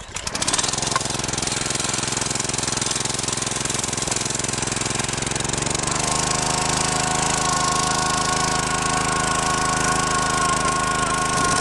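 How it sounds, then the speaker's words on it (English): Gas-powered earth auger for digging fence post holes starts up and runs loud and steady close by, its engine note shifting and settling partway through, with no talking. "Turn on the auger, prime the pump a couple times."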